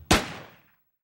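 A single gunshot fired at a dartboard in the NRA Gun Club shooting video game: one sharp, loud crack that fades out over about half a second, alone with no talk.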